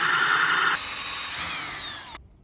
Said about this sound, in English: I put a sponge on a drill, and this is a special bit.